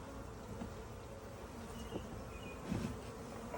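Honey bees buzz steadily from a huge colony in a hive opened for the first time since last year, a dense, continuous drone with a few louder swells as individual bees pass close.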